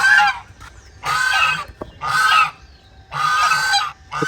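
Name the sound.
ducks honking at a farm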